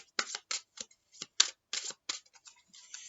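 Tarot cards are shuffled by hand in a string of crisp, close riffling bursts separated by brief silences, with no talk.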